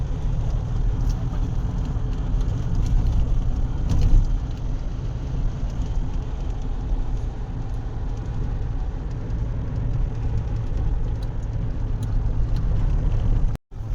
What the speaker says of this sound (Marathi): आपला गाडीचा वेग आहे चोपन्न किलोमीटर पर तास